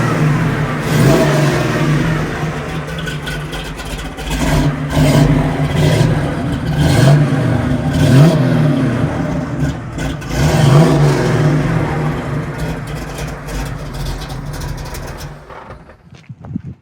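A 1969 Camaro restomod with a 383 stroker V8 and six-speed manual revs repeatedly, loud and close, its rumbling engine climbing and falling in several throttle blips before cutting off abruptly at the end.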